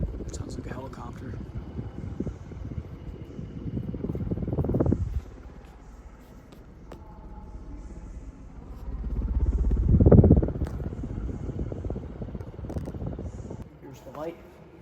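A J&P M42 Spinner ceiling fan with noisy bearings runs with a low, helicopter-like rumbling whir that swells twice to loud peaks, and someone talks over it.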